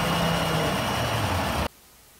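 A Ford F150's 3.5 liter V6 EcoBoost engine idles with a steady low hum and faint rumble, then cuts off abruptly near the end, leaving near silence.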